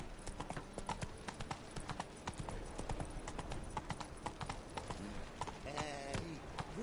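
Hoofbeats of the horse Roach galloping in The Witcher 3 sound as a fast, steady clip-clop rhythm throughout, with game music and ambience beneath and a brief whinny-like tonal burst near the end.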